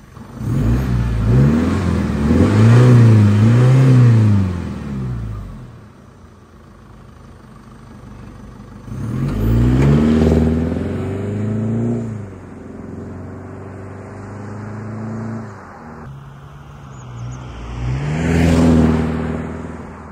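A deleted 2.8L Duramax diesel pickup with a 3-inch exhaust and a straight-through aftermarket muffler, heard from outside. It revs up loudly in three separate bursts with a deep, rumbling exhaust note, and settles to idle between them.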